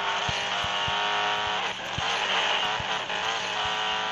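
An Ariel Atom V8 races in Asphalt 8, its engine a loud, continuous, high-revving drone, punctuated by regular low thumps and a brief dip as if shifting gear.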